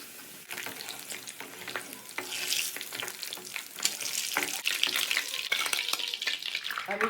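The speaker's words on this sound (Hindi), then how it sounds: "अभी जो बची हुई चिप्स है उसे भी फ्राई कर लेते हैं।" Potato and egg chips fry in hot oil, a close, continuous crackling sizzle with scattered pops and stirring clatter that builds slightly as more chips go in.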